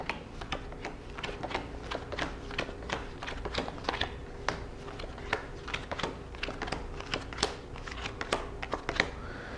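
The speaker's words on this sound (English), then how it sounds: "So deal the cards off going across just like this until you have all 21 cards laid out." Playing cards are dealt one after another onto a table, a steady run of soft, quick slaps and clicks at close range, with no talking over them.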